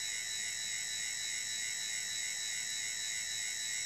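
An electric motor driven by a class D controller with AC synthesis hums and whines steadily at a fixed rotation rate, a continuous high-pitched tonal drone over low noise, with no talk.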